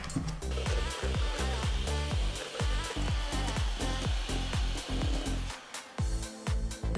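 An electric hand mixer whips egg whites with a little salt and powdered sugar in a bowl for tiramisu, a loud continuous whine whose pitch dips and rises rhythmically as the beaters move around, with no talk.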